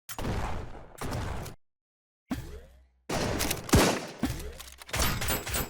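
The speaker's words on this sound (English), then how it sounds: "There's a lot of gunfire variety." Bursts of rapid gunfire and sharp shots from the video game Strike Force Heroes Remastered, broken by short silences, with a whooshing sweep in between.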